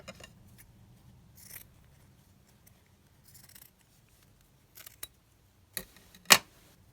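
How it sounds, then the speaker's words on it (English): Scissors cutting a postmark motif out of fabric, a few sparse snips and rustles spread out over quiet, ending in two sharper, louder cuts close by. "let me just cut out that other postmark"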